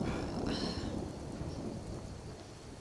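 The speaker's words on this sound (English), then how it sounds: "Running through the forest while it is raining." Rain and thunder in the video game Skyrim, a steady wash of rainfall with a low rumble of thunder running underneath throughout, no talking.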